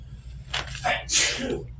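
A single sharp sneeze, fairly close, with a breathy intake before the burst and a brief trailing exhale.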